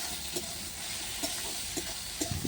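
Salted onions frying in a pan for a village-style rui fish curry with lentil bori, a dense, even sizzle with faint periodic stirring scrapes, close and steady with no voices.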